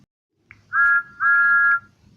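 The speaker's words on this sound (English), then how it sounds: "now engines come whistling suddenly behind me" Two sharp whistle blasts from a steam engine in a Thomas the Tank Engine adaptation, a short blast then a longer one, loud and clear against a quiet background.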